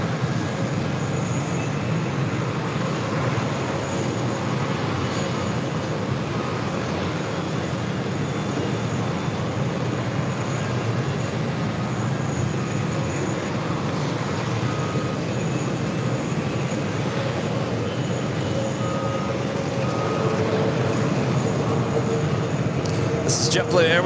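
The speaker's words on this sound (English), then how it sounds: "JetBlue Airways Flight 1602 heading to Buffalo, New York in an Embraer E190AR starting taxi." JetBlue Embraer E190AR jet taxiing at JFK airport, a steady distant engine whine and broad rumble held throughout, with faint voices in the background.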